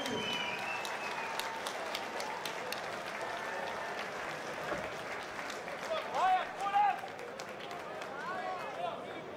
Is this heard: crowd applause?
yes